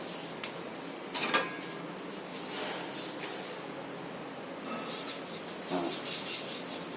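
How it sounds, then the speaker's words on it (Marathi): Mustard seeds spluttering in hot oil while tempering spices for a quick mixed vegetable dish, a faint scattered crackle and pop that grows busier toward the end, with no talking. "आता आपण पहिल्यांदा मोहरी टाकू त्यामध्ये"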